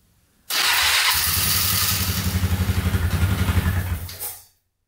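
A Polaris Scrambler 500 4x4 quad cranks and fires up loudly and close, its engine settling into a fast rhythmic chugging for a few seconds before cutting off abruptly.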